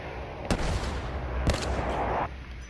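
Two sharp gunshots in a shooting game crack about a second apart, loud and close, over a constant background rumble of game ambience.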